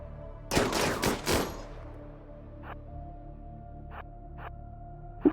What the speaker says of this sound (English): Man, that minigun shreds.